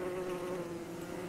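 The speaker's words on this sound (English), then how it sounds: "And I can hear bees buzzing around." Killer bees buzz steadily in the game Don't Starve, a close, continuous insect drone that holds an even pitch and level throughout.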